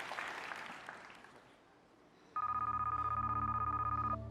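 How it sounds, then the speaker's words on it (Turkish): A telephone rings on the Turkish Deal or No Deal game show, Var mısın Yok musun, with a loud, steady electronic trill that starts partway through and pulses evenly after a stretch of murmuring studio ambience. "Telefon çalıyor."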